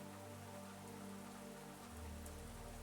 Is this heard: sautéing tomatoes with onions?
no